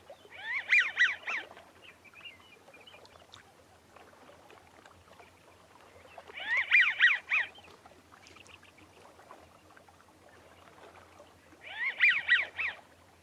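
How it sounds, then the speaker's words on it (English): An American wigeon gives three short bursts of soft, breathy whistled calls, spaced several seconds apart against a quiet background. "American Wigeon, they do have a lovely zoo, zoo, zoo call"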